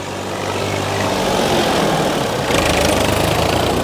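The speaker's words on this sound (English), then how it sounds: "The tractors, young and old in here." Heavy engines of old and young tractors, including a small Massey Ferguson, rumble continuously nearby, a loud steady mechanical drone with a throbbing low end that grows slightly rougher toward the end.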